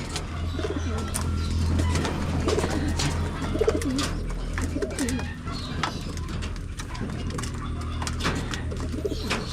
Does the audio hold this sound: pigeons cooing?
yes